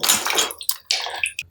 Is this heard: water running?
yes